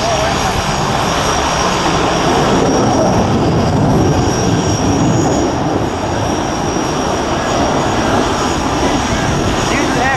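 An aircraft engine roars loud and steady during an aerobatic manoeuvre at the RAF Cosford Air Show 2017, with a commentator talking over it throughout.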